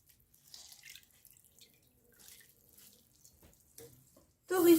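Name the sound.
water dripping from pressed cooked bamboo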